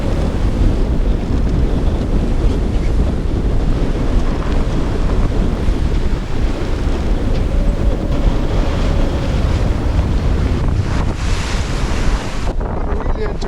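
Strong 30-knot wind roars across the microphone aboard a sailboat at sea on the North Sea, with waves and surf rushing steadily beneath, loud and continuous throughout with no talking.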